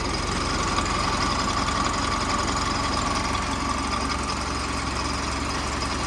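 A motorcycle engine idles steadily with a low, even rumble and faint knocking, running without pause and close by.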